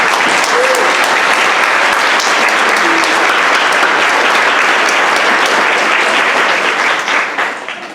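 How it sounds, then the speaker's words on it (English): An audience applauds loudly and steadily for students after an evening performance, the clapping lasting several seconds before it starts to fade at the end. "Let's give a round of applause to all our students."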